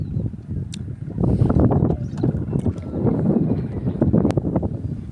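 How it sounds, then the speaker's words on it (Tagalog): Strong wind buffets the microphone at an open-air market, a loud, steady rumbling roar with gusts that swell and ease throughout. "Ang lakas ng hangin dito mga kapatid,"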